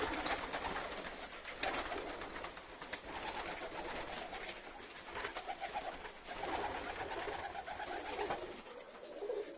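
Young pigeons taken from an old loft coo steadily at a garden allotment, a dense overlapping chorus of soft calls running throughout over light wind, with no talking.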